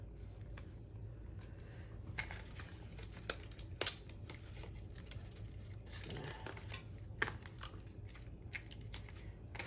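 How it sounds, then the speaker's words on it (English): Scissors snipping a thin strip of paper during a card-making craft session, a few quiet, sharp cuts close to the microphone against a hushed background. "Cut another little strip."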